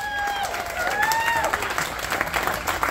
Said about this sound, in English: Give yourself a nice round of applause for coming out to this beautiful wedding.